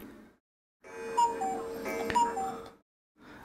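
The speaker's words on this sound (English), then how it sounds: "Oh, and there goes my timer." A video-game timer alarm from Air Conflicts: Vietnam chimes in a short burst of repeated electronic beeps over game background sound, with brief quiet gaps before and after.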